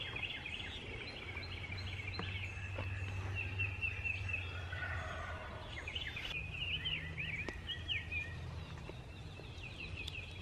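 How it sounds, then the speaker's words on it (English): Wild turkeys gobbling repeatedly from a distance during a hunt, the rolling calls overlapping across an outdoor morning backdrop with steady ambient noise. "they're gobbling good this morning"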